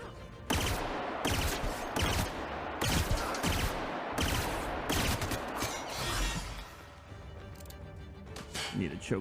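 Repeated gunfire from a weapon in The Outer Worlds, sharp broadband shots in irregular bursts across the whole stretch, loud and close with a voice talking underneath.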